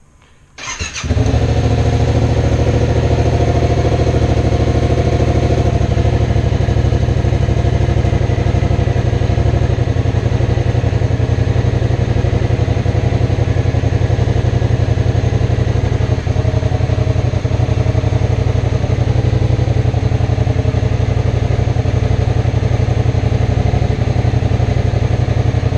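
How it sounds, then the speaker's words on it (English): Yamaha FZ-07 motorcycle engine starting after an oil change, a short crank then catching into a steady, close, even idle that runs unchanged throughout. "Always make sure it's in neutral before you start the bike."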